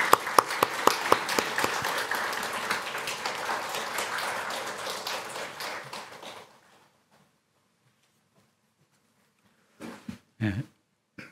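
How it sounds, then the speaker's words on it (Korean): An audience applauds a guest speaker at a church gathering: dense, steady clapping for about six seconds that stops abruptly into silence, followed by a few brief, isolated knocks near the end. "박수로 맞이하겠습니다."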